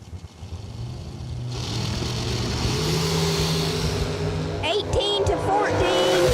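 Dragster accelerating down the drag strip at a race event, a loud engine roar building and holding over crowd noise, with an announcer talking over it near the end.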